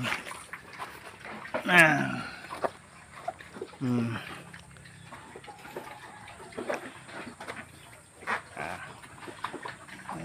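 Pigs, including pregnant sows, on a farm at feeding time, with a few loud grunts and squeals near the start and around four seconds, then scattered quieter snuffling, clatter and splashing of feed or water.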